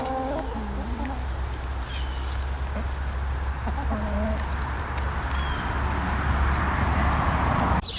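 Chickens clucking and calling in a chicken yard, several birds at moderate distance over a steady outdoor hum, with insects buzzing and a faint voice in the background.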